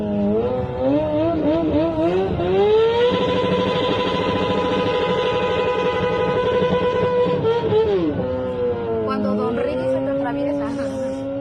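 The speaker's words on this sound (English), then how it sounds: "A motorcycle burns rubber and takes off at an intersection before trying and failing to pop a wheelie" A motorcycle at a street intersection revs hard, its engine note climbing in a long rising whine that holds high, then drops and rises again as it pulls away, fairly close amid road noise.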